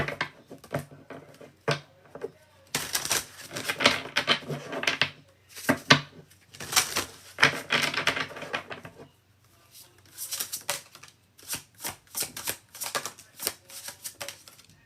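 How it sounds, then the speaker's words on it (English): A stiff deck of tarot cards is shuffled by hand in bursts of crisp riffling and flapping, with short pauses between shuffles, close and fairly quiet. "I forgot how hard this deck is to shuffle"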